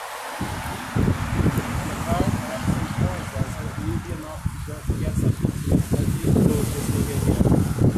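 Strong wind blows outdoors on a street, buffeting the microphone in loud, gusty rumbles that rise and fall continuously through the scene.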